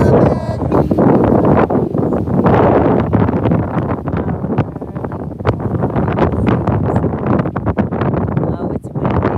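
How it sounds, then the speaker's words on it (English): Strong, gusty wind buffeting a microphone outdoors at sunrise near Mar-a-Lago, a loud continuous roar with sharp blasts and rumbles throughout. "Oh, it's windy."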